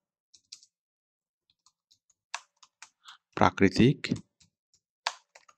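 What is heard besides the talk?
typing on a computer keyboard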